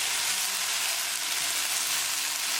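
Okra and sardines sizzle in a frying pan while being slowly stirred, a loud, dense, unbroken frying hiss held close throughout, with faint scraping underneath and no talking.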